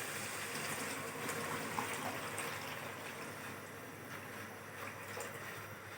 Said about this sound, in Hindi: अब हम इसमें 4 गिलास डाल देंगे पानी।